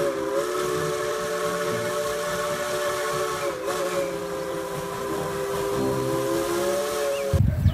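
Toy Thomas the Tank Engine train blowing a long, steady steam whistle over hissing, held for about seven seconds.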